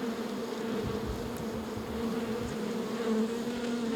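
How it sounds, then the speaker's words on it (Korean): Honeybees at an urban beehive on a Seoul building rooftop keep up a steady, dense buzz for the whole stretch, with a low hum holding under scattered close passes from single bees. "도시에서 꿀벌들이 가장 살기 좋은 장소는 다름 아닌 건물 옥상입니다."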